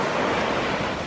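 Atlantic Ocean surf at Edisto Beach, a loud, steady wash of breaking waves mixed with wind buffeting the microphone.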